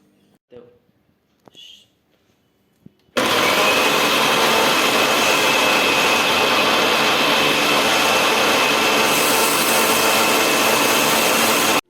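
A mixer grinder pulverizing green chilies, ginger and garlic into a paste in a home kitchen, a loud steady whirring roar that kicks in abruptly after a few seconds of quiet and runs continuously to the end.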